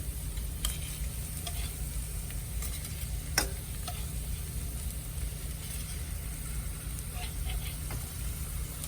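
Garlic and onions sautéing gently in a pan for a vegan chicken à la Marengo: a soft, continuous sizzle with an occasional stirring click, over a low steady hum.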